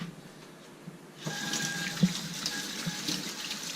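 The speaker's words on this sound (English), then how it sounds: "I'm going to wash off my hand really fast." A tap turns on about a second in and water runs steadily into a sink while hands are washed, close and continuous.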